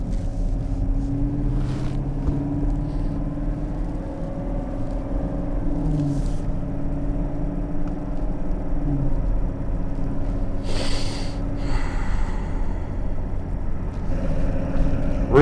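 2019 Chevrolet Camaro at a drag strip, its engine giving a low steady rumble and idle drone throughout, with a few brief louder bursts and background noise.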